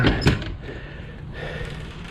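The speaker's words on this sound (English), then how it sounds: "Now I'll pop open this door for you" A canopy door on a 2003 Ford F150 XL Extra Cab pickup with an A.R.E. canopy pops open: two quick close clunks in the first moment, then only quiet background hum with no talking.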